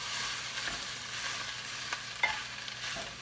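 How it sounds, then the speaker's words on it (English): Ground beef for bobotie sizzles quietly in a pan while a mix and chop tool breaks it apart, giving scattered scraping taps and clicks over a steady hiss. "I'm just going to use my mix and chop here to break it up."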